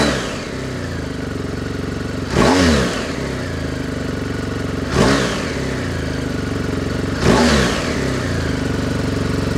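A motorcycle engine with a Jekill & Hyde valved exhaust, valve closed, idles steadily nearby, with three brief throttle blips spaced a couple of seconds apart.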